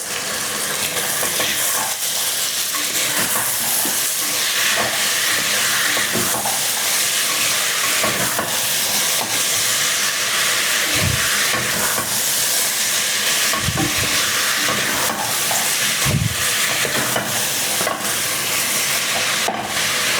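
Beans fry in a pot with a constant hiss while a utensil scrapes and stirs in occasional knocks and scrapes.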